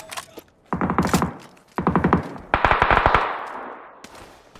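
Bursts of automatic gunfire during a PUBG esports match, several rapid volleys of shots close and loud, separated by short pauses, with a final shot at the end.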